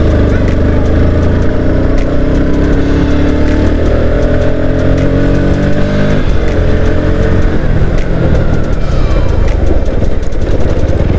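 A vehicle climbs a rocky off-road hill path toward a hilltop temple, its engine droning loud and near throughout with rising and falling revs as it labours over the stones, with voices talking occasionally in the background.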